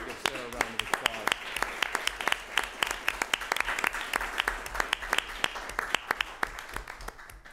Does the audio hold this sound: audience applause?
yes